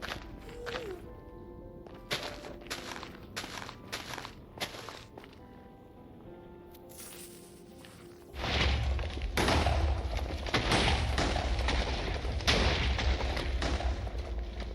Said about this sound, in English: TNT and explosions to uncover the buried ancient debris